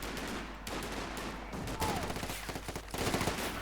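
Machine gun fire and scattered gunshots from a Company of Heroes 2 World War II battle, bursts of rapid automatic shots rattling in layered, continuous combat noise.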